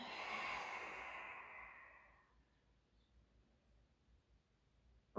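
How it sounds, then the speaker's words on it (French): One long, soft exhale during a Pilates breathing exercise fades out over about two seconds, followed by near silence and a brief click at the very end. "J'expire."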